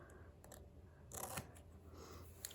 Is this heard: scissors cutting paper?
yes